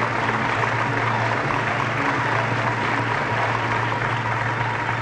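Dense, continuous clapping from a large audience greeting a belly-dance guest of honour at an evening show, loud and sustained without breaks, with no voices standing out.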